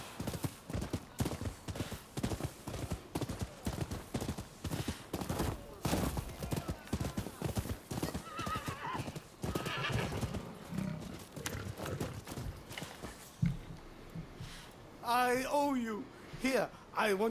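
A horse's hooves clip-clop at a steady trot in the video game Rise of the Ronin, close and continuous, ending with a neigh, while a voice talks over part of it.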